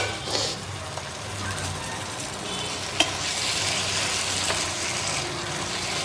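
Chhana dish sizzling in a pan as it is stirred, a continuous frying hiss with occasional scraping strokes and a sharp clink around the middle.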